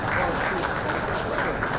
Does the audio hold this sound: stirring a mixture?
no